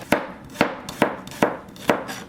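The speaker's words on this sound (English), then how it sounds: "for water kimchi, she's just gonna chop it up" A knife chopping squash and garlic on a cutting board for white water kimchi, five crisp, evenly spaced chops close up with nothing else heard.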